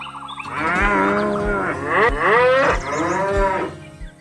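A cow in a 3D animated farm scene lets out a loud, drawn-out moo that rises and falls over about four seconds, close and clear with no talking.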